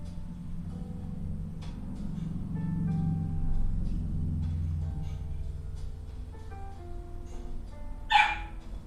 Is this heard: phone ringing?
no